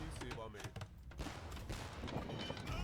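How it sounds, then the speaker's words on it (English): Hand cannons in Age of Empires fire in scattered volleys of sharp battle cracks amid game combat noise, with a commentator talking over the gunfire. "Hand cannons coming in to, I think, kill these Halbs."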